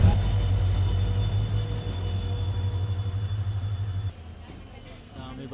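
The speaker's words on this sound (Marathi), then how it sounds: "ही बघा आमची गाडी इली आहे. 15 मिनटं लेट झाली. तुतारी एक्सप्रेस." Tutari Express passenger train arriving at a station platform in the Konkan, a loud steady low rumble of rolling carriages that drops off abruptly near the end, with faint station background.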